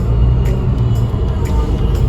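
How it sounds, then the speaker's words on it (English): Dense road traffic in an Indian city rumbles steadily and loudly, with engines and vehicles close by and a few faint higher swishes on top. "Look at the traffic."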